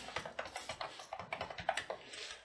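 Rapid, fairly even keystrokes on a computer keyboard, a string of light plastic taps heard up close with no talking, as a hyphen and card number are keyed into an accounting program.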